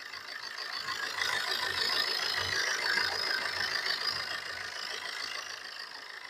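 A car engine idles steadily with a low, even rumble and a faint knocking texture. It is close and continuous, with no voices.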